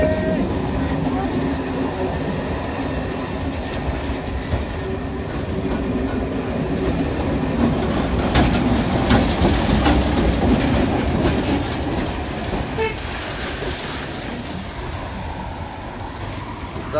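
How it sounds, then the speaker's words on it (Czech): A train rolls through Brno city centre, its steady rumble and rail noise carrying throughout under a voice talking over it. "takže centrem města jede souprava vlaku"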